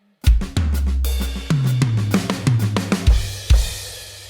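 A drum kit plays a loud, close fill from a drum solo, a rapid run of snare and tom hits with ringing toms and kick accents, no voices.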